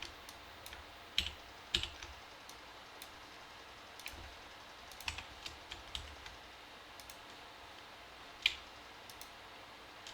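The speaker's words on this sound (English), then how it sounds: "And I'm just holding shift and left clicking right here." Faint, scattered mouse clicks tick at irregular intervals across ten quiet seconds on a computer, made while holding the shift key during a working session in Unreal Engine 5, with no talking over them.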